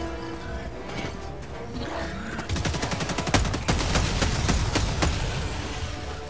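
Dense gunfire in the shooter game Helldivers 2, rapid automatic bursts that build into a loud sustained fusillade with sharp individual cracks over a busy battle background.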